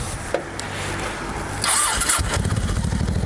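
A motorcycle engine starts and settles into a warm-up idle outdoors in Germany ahead of rain, its low pulsing rumble steady and close after a brief mechanical clatter.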